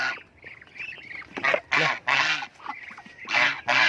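Geese kept in a backyard egg-laying pen honk loudly and nearby in several harsh, nasal bursts, with short pauses between calls.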